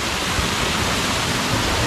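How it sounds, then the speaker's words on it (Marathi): A waterfall at Dongarwadi, Vadgaon Maval roars close by, a loud, unbroken broadband rush of falling water with no other sounds. "एवढ्या उंचावरनं पडतोय आणि तुम्हाला फिलिंग आहे ना धबधब्याचं एकदम मस्त येणार आहे"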